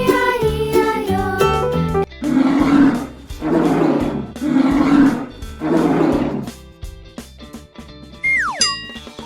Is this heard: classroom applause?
no